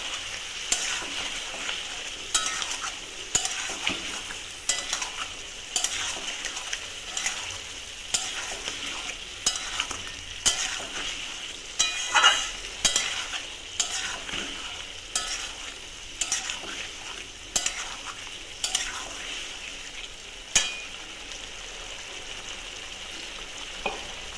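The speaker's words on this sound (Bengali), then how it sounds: "এবার সব দিয়ে আমি কষাবো" Fish head and bottle gourd are being sautéed and stirred in a pan, giving a steady frying sizzle broken by repeated sharp scrapes and clatters of a spatula, close and fairly loud, with no voices.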